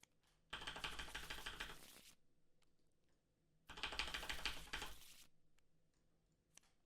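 Two bursts of a deck of board game cards being shuffled, each lasting over a second with dense rapid riffling, separated by a quiet pause, close by and fairly soft.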